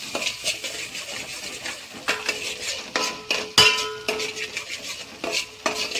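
Ground onion masala stirred in a pan for a Gavaran mutton curry, a steady scraping rattle of spoon against metal with scattered clinks and a faint sizzle, close and moderately loud with no talking.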